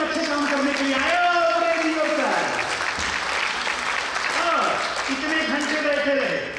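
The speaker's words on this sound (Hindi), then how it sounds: "हम उनके लिए और चलते चलते हम खुद के लिए भी ताली बजा" An audience in a large hall breaks into sustained, dense applause that stays loud throughout, while a voice talks over the clapping.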